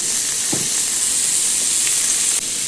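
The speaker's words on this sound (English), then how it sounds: "Griddle or pan fry the halloumi on both sides until properly browned" Halloumi cheese pan-frying in oil, a loud, continuous, close hiss of sizzling with a couple of faint soft taps.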